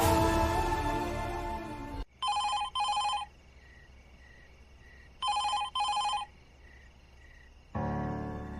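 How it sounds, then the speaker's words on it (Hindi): A telephone rings in paired electronic trills heard twice against a quiet background, bracketed by louder music before and after. "तुम फोन मिलाओ अपने बाबूजी को"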